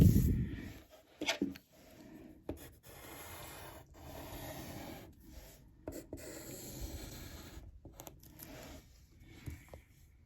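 A pencil drawing on paper gives soft, continuous scratchy strokes up close, broken by short pauses and a few sharper taps.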